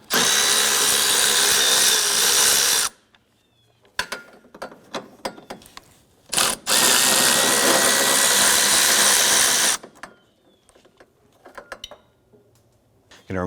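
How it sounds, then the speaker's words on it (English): A power tool removes 10mm bolts from the strut tower brace on a 2004-2008 Acura TL. It whirs loudly in two sustained bursts, with ratcheting clicks and handling noises in the quieter gaps between them. "I'm going to remove our 10mm bolts."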